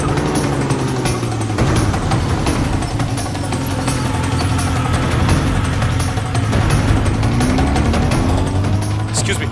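A motorcycle engine idles nearby with a steady low rumble and a rough, uneven putter. It runs continuously under faint background activity, with no clear speech.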